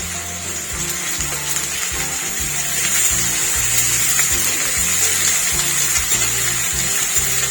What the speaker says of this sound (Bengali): পেঁয়াজ বাটা দিয়ে দিচ্ছি।